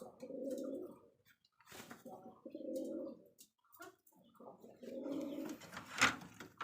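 Rajshahi Giribaj pigeons coo close by in three rolling, throaty phrases separated by short pauses, with a brief sharp click near the end and no talking.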